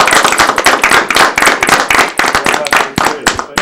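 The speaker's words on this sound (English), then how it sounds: "Do we get to give him a round of applause?" A round of applause breaks out at a school board meeting, many hands clapping in a dense, lively burst that holds steady close by, with some voices mixed in among the claps.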